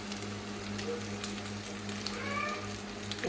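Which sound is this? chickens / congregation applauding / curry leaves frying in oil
curry leaves frying in oil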